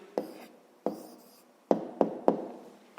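Pen strokes on paper while writing out a 5th-grade math answer, five short scratchy bursts spaced unevenly, close and quiet, no talking.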